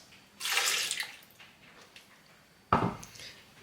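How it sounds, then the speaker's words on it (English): Milk is poured into a glass, just under half full, in two bursts: a longer splashing pour, then a pause, then a second sharper pour that fades. Nearby and fairly loud, with no voices. "I'm going to add milk."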